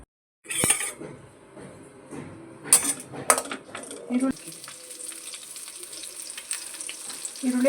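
Onions hit hot oil in a pan and sizzle steadily, opening with a few sharp clinks of utensils against the metal before a continuous frying hiss settles in at close range.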